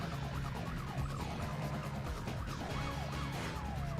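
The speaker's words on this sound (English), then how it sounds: "The siren sound layering over itself sounds really funny" Several police sirens in Need for Speed Most Wanted (2005) wail at once, their rising and falling tones overlapping in a steady, layered chorus with a low engine rumble beneath.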